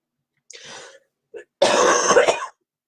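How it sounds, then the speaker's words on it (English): A person with a lingering, persistent cough clears their throat, first a short rasp, a tiny catch, then a longer harsh hacking burst, close and alone. "It's a terrible, terrible cough."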